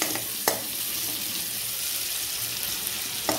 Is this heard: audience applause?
no